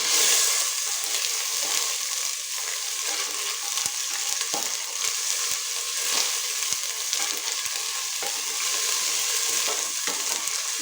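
Ginger and a whole green chili sizzle steadily in hot oil, a dense continuous crackle with occasional soft scrapes of stirring, close and fairly loud with no talking.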